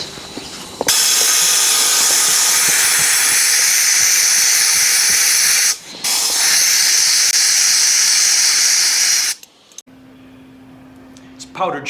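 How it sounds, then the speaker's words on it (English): Compressed air hisses loudly and steadily out of a leaking air strut on an Audi allroad, broken by a brief pause, then cutting off, with a quieter tone and faint background voices at the end. "we might just get some compressed air and just see if we can work out where that's leaking"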